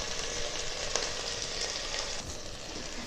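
Tomatoes and salt sautéing in a pan for vegetable dum biryani give a steady, close sizzle with faint stirring scrapes, continuous and fairly quiet throughout.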